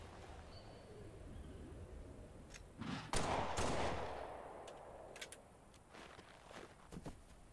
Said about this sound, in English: Well, this is a pistol, by the way.